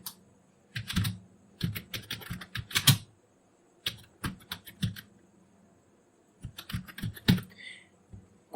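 Keystrokes on a computer keyboard typing a search into a web browser, coming in several quick bursts of clicky taps separated by short pauses, fairly close and clear with no talking.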